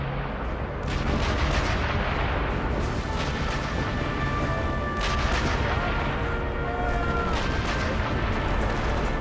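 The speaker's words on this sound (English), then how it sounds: "they're still shooting over there" Enemy gunfire in the Sniper Elite V2 video game, with repeated sharp shots and bursts cracking over a constant dense rumble of battle ambience.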